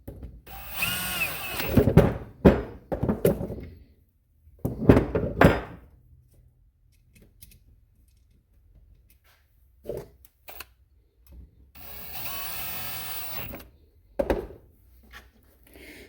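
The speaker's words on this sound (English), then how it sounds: "Put your cover on. Screw it back down." A power driver screws a starter solenoid cover back down in short whirring bursts separated by pauses, with a few light clunks and taps of the cover and tool between them.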